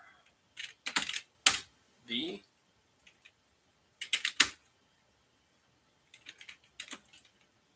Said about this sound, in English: This monorail keyboard's pretty good. I like the tactile feed.